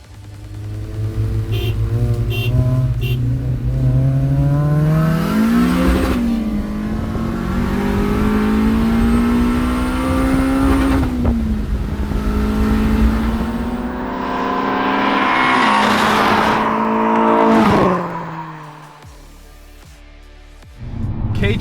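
Turbocharged 400 hp Acura RSX with a K20 engine pulling hard on a drive, heard from inside the car: the engine revs climb through several rising gear pulls, loud and close, then it backs off to a low idle at the end.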